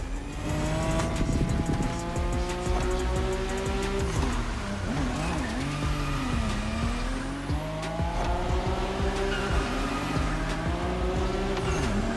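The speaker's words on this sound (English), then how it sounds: "it's all about drifting. Oversteer while maintaining control for a high exit speed" A drifting car in The Crew Motorfest revs hard while its tires squeal in long, wavering screeches, loud and sustained with the engine roaring underneath.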